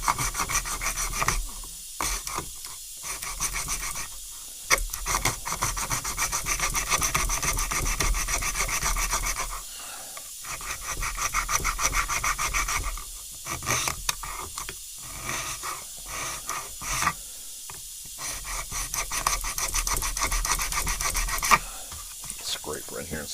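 Hand rasp stripping the finish from a wooden Remington 11-87 shotgun forend: steady back-and-forth scraping strokes, close and continuous, broken by short pauses between passes.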